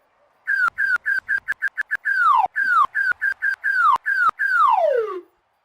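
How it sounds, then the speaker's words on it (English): A slide whistle sound effect from a soundboard plays a rapid series of short, bright toots that dip in pitch, then longer downward swoops, ending in one long falling slide. It sounds alone, loud and close. "Slide whistle spam?"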